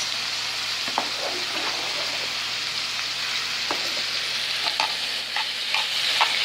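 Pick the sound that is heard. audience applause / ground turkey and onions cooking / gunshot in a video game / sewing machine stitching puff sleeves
ground turkey and onions cooking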